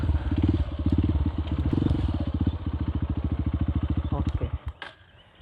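A motorcycle fitted with a Nofifumi Torc aftermarket exhaust idles with a fast, loud, throbbing pulse, then blips and sputters before the engine cuts off near the end.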